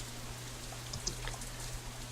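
Faint, steady rain falls in a quiet scene from the visual novel Katawa Shoujo, with a soft constant patter and a low hum underneath.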